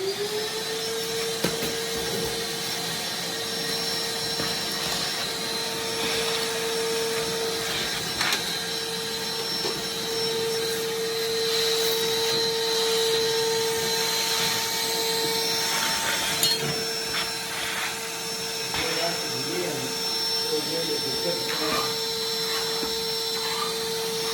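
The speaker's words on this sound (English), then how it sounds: "we scraped this, and then got it all vacuumed up" A vacuum cleaner sucks up loose concrete debris from a cracked slab, its steady whining drone running throughout, close and loud, with scattered rattles and clicks as grit and chips pass through the nozzle.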